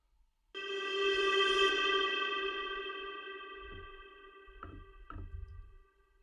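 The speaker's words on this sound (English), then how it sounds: "I wanted to give the sample my own reverb" A sustained harmonic music sample tone swells in with a long ringing added reverb wash that slowly fades, with a few low thumps near the end.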